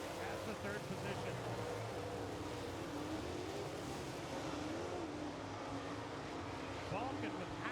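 Late model race cars roar down the straightaway of a dirt track in a continuous, loud engine drone with shifting revs, while an announcer talks over the racing.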